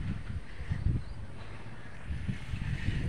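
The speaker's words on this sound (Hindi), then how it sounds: "अभी तो बहुत तेज हवा चल रही है और धूप आई है।" Strong wind blows outdoors on a sunny day, a steady rough roar with low gusty buffeting against the microphone that swells and fades through the stretch, with no talk.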